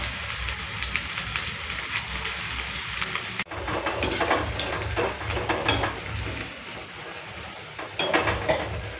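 Mushroom pakoras frying in hot oil in a pan, with a continuous close, crackling sizzle and occasional metallic clinks of a utensil against the pan, with no voices.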